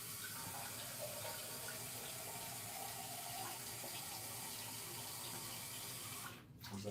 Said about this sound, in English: I'm gonna give a little bit more water here.